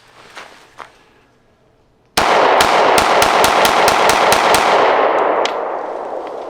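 Repeated pistol shots from a Taurus GX4 at a Triple Threat steel target on an outdoor range: after a quiet stretch, about ten sharp, loud reports fire in a fast, steady rhythm, with ringing metal impacts and no talking.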